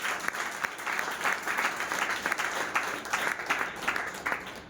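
Steady, full applause from an audience at a motivational talk, a dense wash of clapping held at even loudness throughout, with a faint voice underneath.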